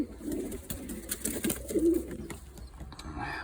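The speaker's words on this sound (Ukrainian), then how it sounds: "Оце пара таких голубеняток." A pair of pigeon chicks in a loft give soft, close, repeated cooing and low warbling calls, mixed with small rustling and clicks.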